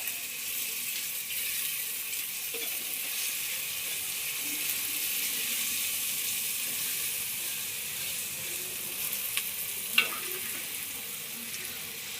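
Steady, dense sizzling of spices and chicken frying in hot oil in a clay pot, with a faint clink or two near the end.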